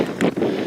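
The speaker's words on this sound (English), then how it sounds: "It's a windy day here," Gusty, wet wind at the Cliffs of Moher in Ireland buffets the microphone with a low, rumbling roar, rising briefly in a stronger gust before settling into steady blustery noise.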